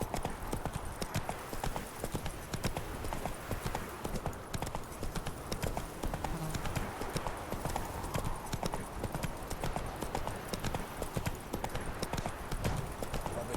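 Horse hooves clip-clopping at a steady rapid rhythm on a road in the Witcher 3: Wild Hunt video game, continuous and fairly close, with faint game ambience around them.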